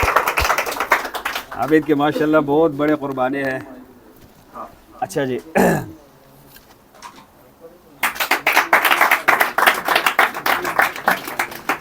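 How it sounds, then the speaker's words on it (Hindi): A small group claps for Abid at a mobile repairing institute's diploma gathering, a brisk run of hand claps bursting out after a man's spoken words and continuing to the end. "आबिद के लिए तालियां भाई, स्पेशल तालियां, स्पेशल।"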